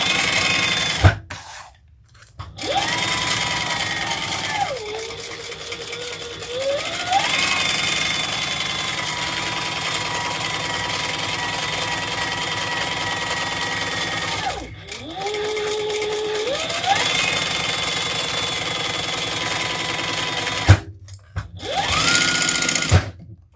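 A sewing machine basts around the edge of a crossbody bag in long, steady runs of stitching, with short pauses between passes where the motor stops and restarts, close and fairly loud, with no talk.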